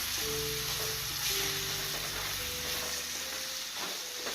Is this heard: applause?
no